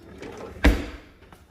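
A kitchen drawer is shut once with a single solid thump, close and fairly loud, followed by a short fading rattle against a quiet kitchen background.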